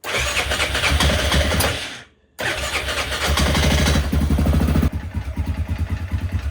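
A Yamaha Grizzly 600 ATV engine runs rough and noisy, taking little throttle, with a loud continuous rattling idle, a brief cutout and restart, then a steady, uneven chugging close by.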